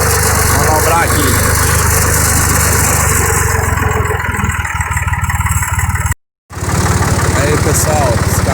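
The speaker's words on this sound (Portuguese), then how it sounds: "eu trabalhando no trator" A Ford tractor engine chugs steadily at close range with a low, even throb, briefly cutting out before resuming, while a voice talks over it.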